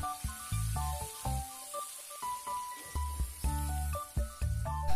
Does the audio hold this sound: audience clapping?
no